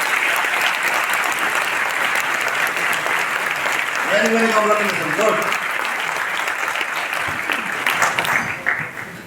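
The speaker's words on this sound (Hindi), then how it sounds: "जोरदार ताली के लिए।" A hall audience claps loudly and steadily at a Vestige marketing plan meeting, a wash of hands that carries on while someone speaks over it and then gradually thins toward the end.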